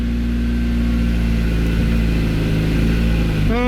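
A Honda CRX Si engine idling steadily and loud after a transmission repair, with a low constant drone, then a brief rise in revs as it is shifted into first gear at the end.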